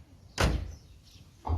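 A Ford Laser Tierra car door with central locking opens with a sharp mechanical clunk, and a second, softer clunk follows a moment later. Both are close and there is no talk.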